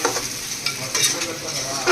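A native country chicken curry is stirred in a pot, with a spoon scraping and swishing through the thick sizzling mixture in quick, close, uneven strokes.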